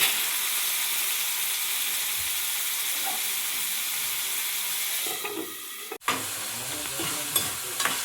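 Onions and tomatoes sizzle and fry in a pan, a steady loud hiss with stirring, briefly interrupted near the end before the frying noise resumes with scraping clicks.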